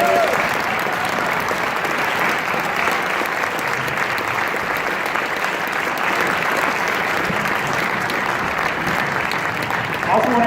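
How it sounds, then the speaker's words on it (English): At a Democratic candidate forum for Arizona's second district, a roomful of people claps steadily and fairly loudly for the candidates, a sustained even wash of applause with faint voices beneath. "Let's give a big round of applause for all the candidates."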